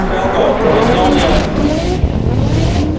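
Loud, continuous roar of drift car engines revving hard at a large drift festival in Estonia, with a dense wash of motor noise and faint tire hiss throughout.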